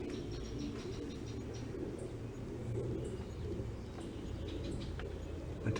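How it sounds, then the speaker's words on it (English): A bird nesting in the glove box of a 1965 VW Beetle gives soft cooing and a few faint chirps, heard low and close over a steady background hum. "that bird that was trying to make a nest in the glove box"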